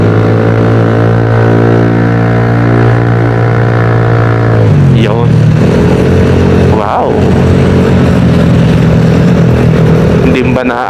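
Loud motorcycle with an aftermarket exhaust pipe idles with a deep, steady burble, then gets revved in short sharp bursts near the microphone, while someone speaks briefly over it.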